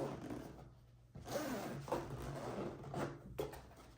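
Zipper being pulled open around a GoPro Hero 11 Black carrying case, a quiet close-up rasping sound in a few short strokes with brief pauses between them.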